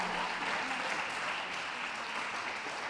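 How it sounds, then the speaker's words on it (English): A crowd at a dog show claps in steady, dense applause that holds at an even level throughout, with no clear voices above it. "A round of applause, please,"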